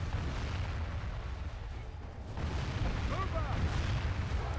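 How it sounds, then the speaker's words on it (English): Catapults fire in a Total War mod battle, with deep rumbling impacts and heavy booms over a continuous low battlefield roar, while someone talks quietly beneath the din. "Sometimes the catapults can be just amazing."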